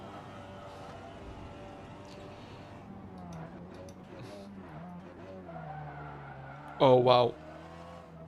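A race car in a racing video game at the Nordschleife skids and slams into a wall, a brief loud tire-scrub burst near the end under continuous engine drone, with a voice exclaiming just before the impact.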